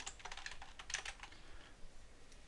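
Someone types notes on a computer keyboard in quick, quiet bursts of key clicks that trail off, heard close and faint with no talking.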